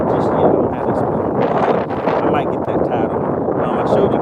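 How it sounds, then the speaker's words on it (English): Loud, steady wind buffets the microphone on a fishing boat out on a lake, a constant rushing roar that lasts throughout, with a voice partly audible beneath it. "the wind is blowing out here"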